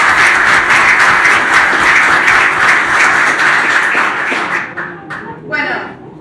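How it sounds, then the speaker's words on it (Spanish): A crowd of listeners at a book launch gives steady, full applause that holds dense and loud for about five seconds, then thins into a few scattered claps as it fades out. "un aplauso"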